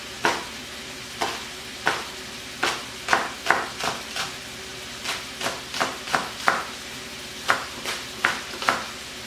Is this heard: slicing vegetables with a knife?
yes